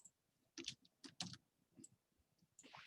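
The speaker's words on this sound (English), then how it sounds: "just typing this into chat." Keys tapped on a computer keyboard while a 3D-modelling program is in use, a few quiet scattered bursts of clicks with short pauses between them, nearby and faint, with no talk.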